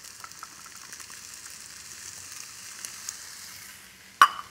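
Frozen peas and scallions stir-fry in a wok, a soft, steady sizzle heard close but quiet, ending with one sharp clack of a utensil against the metal.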